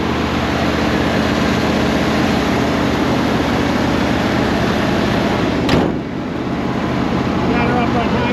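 Big Bertha's heavy engine holds a loud, steady high idle, a dense continuous drone up close, with a short dip near the end.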